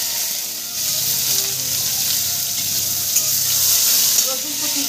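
Chopped garlic hitting hot oil seasoned with crushed black pepper, cloves and cinnamon, giving a continuous bright, hissing sizzle that stays fairly loud and even throughout.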